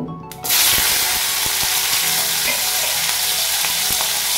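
Whole chilies with their stems drop into hot mustard oil and salt in a wok, setting off a sudden loud, continuous frying sizzle with faint stirring clicks, close up and steady.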